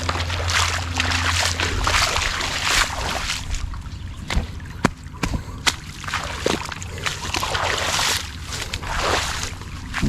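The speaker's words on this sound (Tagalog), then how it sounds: "mahirap kontrolin yung tubig dahil malakas yung agos" Steady broadband rush of water with sloshing and splashing throughout, a strong continuous flow close by, with scattered knocks.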